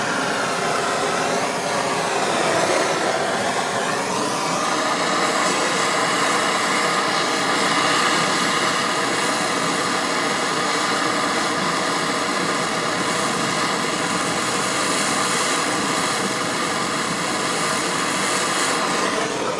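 A Sievert gas torch heating a rusty, corroded stuck bolt gives a loud, steady roar that holds close and unbroken throughout, its tone shifting slightly early on.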